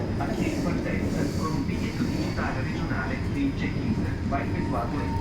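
Steady, loud rail rumble and rolling clatter of an Italo train near Roma Tiburtina, a continuous dense roar with faint murmuring voices underneath.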